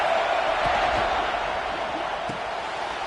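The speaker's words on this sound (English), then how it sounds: "This crowd bringing the energy and noise early." Stadium crowd at a college football game, Ball State against South Carolina, a steady broad roar through the whole stretch, with a few faint thumps and shouts rising from the mass of noise.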